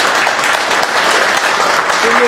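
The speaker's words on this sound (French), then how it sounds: "que je vais vous demander d'applaudir encore très fort," An audience applauds loudly for a singer at a Paris album presentation, with dense, continuous clapping close to the microphone and a brief sustained vocal tone near the end.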